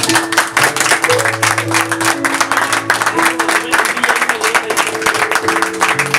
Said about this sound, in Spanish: vamos a darle un aplauso y una porra a mi mamá